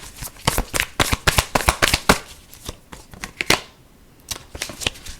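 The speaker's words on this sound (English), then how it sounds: "Let's get one more card for you" Tarot cards being shuffled by hand, a quick dense flurry of crisp riffling snaps, close and loud, easing off briefly before a few more flicks.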